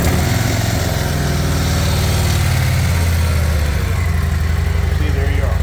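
A 2024 Harley-Davidson Road Glide CVO ST motorcycle engine idles in neutral, a loud, steady low throbbing rumble close by, with a person talking over it.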